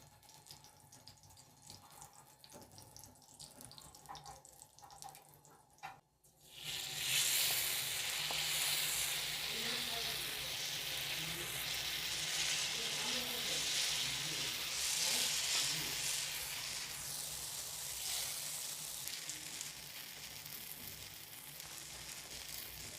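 Rice-flour cheela batter meets hot ghee in a pan and erupts into a loud, steady sizzle after a quieter stretch of low kitchen sound, crackling continuously close by until the end.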